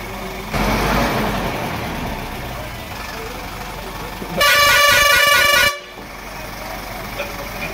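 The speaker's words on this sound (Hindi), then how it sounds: "तो दोस्तों हॉर्न भी बड़ा सॉलिड है इसका।" A loud, blaring bus horn sounds once for over a second, close by, over an idling engine and background street noise at a market in the hills of Uttarakhand.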